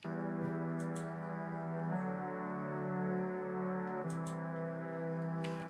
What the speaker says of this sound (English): These are strings, huh?